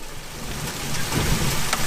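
Hail and heavy rain pound a car during a thunderstorm in Tornado Alley, a loud, dense drumming on the body with sharper hailstone impacts standing out near the end, no voices.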